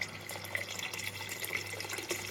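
Water is poured into a pot of Sindhi kadhi with vegetables as it cooks, a faint, steady trickling pour lasting about two seconds.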